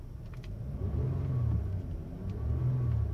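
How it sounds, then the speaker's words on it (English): A 2002 Lexus ES300 engine revving quietly, a soft low rumble that rises and eases in two smooth swells, heard close and without voices. "Car revs nicely, nice and quiet, you know, what you expect of a Lexus."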